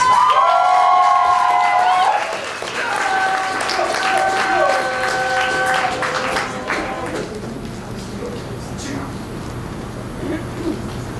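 A café crowd applauds and cheers for a slam poet, loud clapping with shouts and whoops at first, then easing into lighter scattered clapping; voices carry over the noise.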